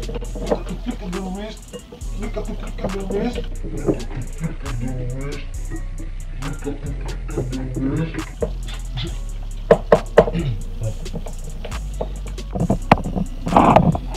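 A small hand whisk beats pancake batter in a bowl, its quick tapping clicks running close under someone talking.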